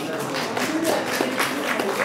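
An audience applauds at a Russian celebratory event honouring Valeria, steady dense clapping throughout with faint crowd murmur.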